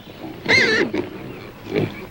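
A pig squeals loudly up close, followed by a couple of shorter grunting snorts against a quiet background.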